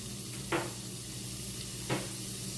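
Minced garlic and ground beef with onion browning in a pan give a steady low sizzle, broken by two brief louder scrapes or stirs; no one speaks.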